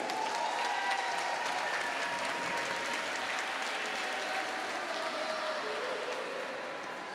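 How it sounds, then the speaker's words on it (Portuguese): Attendees at a formal ceremonial session for a diploma award give a steady round of applause, a soft, continuous patter of many hands heard from across a hall. "eu peço a vocês uma salva de palmas"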